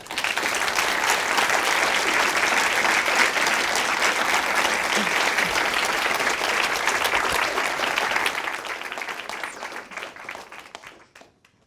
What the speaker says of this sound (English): Can we get one more round of applause for all of tonight's storytellers?